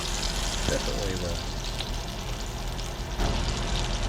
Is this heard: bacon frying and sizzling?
yes